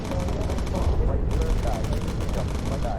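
Gunners on a bomber in the game Bomber Crew fire machine guns in rapid, dense bursts over a steady engine drone, with a brief lull mid-burst and crackling impacts throughout.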